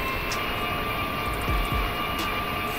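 An airplane in a Minecraft flight simulator game touches down with a loud, steady engine roar and a pair of brief low thumps midway, with no voices.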